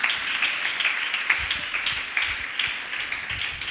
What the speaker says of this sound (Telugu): చప్పట్లు కొట్టి ప్రభువుని మహిమపరచు.